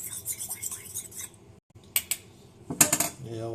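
Egg yolk and a little water are stirred together in a bowl, a utensil clinking and scraping against the dish in sharp, irregular taps, close and fairly loud, with a soft voice in the background.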